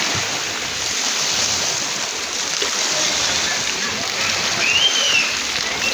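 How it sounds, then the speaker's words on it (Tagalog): Steady rushing water fills the whole stretch, a continuous broadband wash like a flowing stream, fairly loud and close. "Nay tubig nga nag-agas, pwede ka mo patungo diha."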